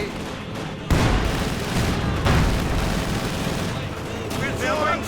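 The quad-mounted AA half-track in Company of Heroes 2 firing its machine guns, with dense, continuous rapid fire and booming impacts throughout, and a commentator talking over the battle.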